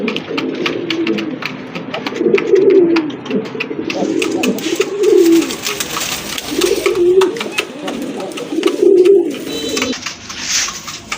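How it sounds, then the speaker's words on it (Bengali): A pair of red-checked pigeons coo repeatedly up close, loud rolling calls every couple of seconds over a busy market background with someone talking throughout. "মাশাল্লাহ, সুন্দর এক জোড়া কবুতর"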